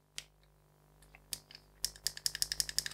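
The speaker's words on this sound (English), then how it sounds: "As you can hear, the PTT is nicely clicking." The push-to-talk button on a Motorola speaker microphone clicks, a few scattered clicks first and then a quick, evenly spaced run of sharp, close clicks in a quiet room.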